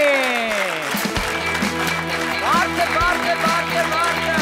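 Audience applause welcomes two guests, Gor and Ponch, onto a comedy sports club show, a steady wash of clapping running under loud bright music throughout.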